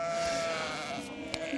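A flock of sheep bleats, with overlapping, fairly faint bleats heard over a soft outdoor background.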